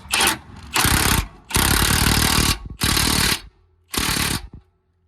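A 2017-2019 Ford Super Duty's track bar bolt being driven down to 400 foot-pounds during a BDS leveling kit install, heard as five loud, close bursts of rattling impact-wrench hammering separated by brief pauses.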